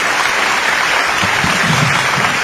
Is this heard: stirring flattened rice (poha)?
no